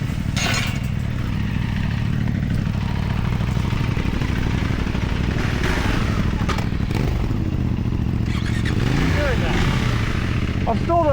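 A KTM 390 Adventure R motorcycle rides along a road toward a trail, its engine a steady, close drone layered with wind rush and occasional clatter and thumps throughout.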